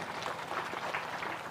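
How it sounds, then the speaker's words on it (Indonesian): Audience applause from a large crowd at an Islamic istighotsah gathering, a steady, distant wash of clapping that holds evenly throughout. "Tepuk tangan lagi."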